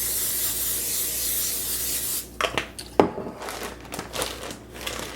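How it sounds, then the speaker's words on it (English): Butter-flavored cooking spray hisses onto a pan in a home kitchen in one steady burst of about two seconds, then gives way to light clatter and handling noises. "I'm going to be spraying my pan with just some butter spray."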